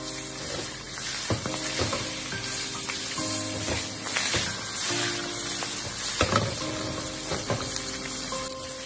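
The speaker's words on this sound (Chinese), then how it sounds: "在煎鱼块的时候全程都要用小火慢煎" Fish pieces pan-frying slowly in oil on low heat for braised fish make a soft continuous sizzle with light crackles, while faint background clatter and a low hum sit beneath it.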